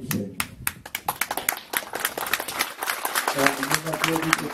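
Applause from an audience at a celebration marking twenty years since the discovery of the Chauvet cave, with scattered claps building into a denser ovation while voices talk over it.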